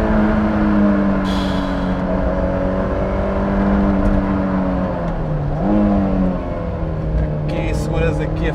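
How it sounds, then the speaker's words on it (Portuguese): A Honda S2000 with a 240 hp engine revving hard toward 9000 RPM, a loud sustained high-pitched wail whose pitch dips briefly, as on a gear change or lift, then climbs again, with someone talking over it. "sendo conduzida aqui com o motor a gritar"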